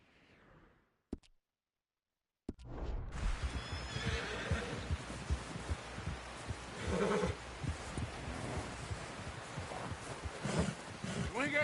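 A horse whinnies amid busy Red Dead Redemption 2 game ambience with hoofbeats and commotion, voices calling out in the background.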